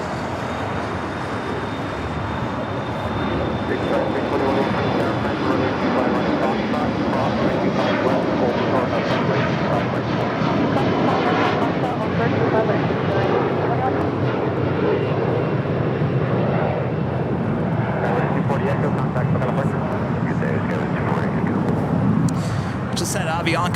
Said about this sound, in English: It's an A320 just touching down here on the south side.